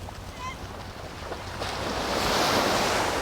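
Sea waves wash onto the beach at Lazarus Island, Singapore, as a steady surf that swells louder toward the end, mixed with gusty wind buffeting the microphone.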